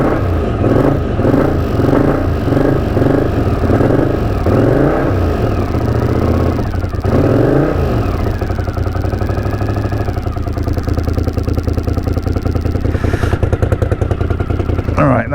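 A 1981 Honda CX500 motorcycle engine cranks and fires, then runs with rough, loud revving and throttle blips close to the microphone, a steady mechanical clatter continuing throughout.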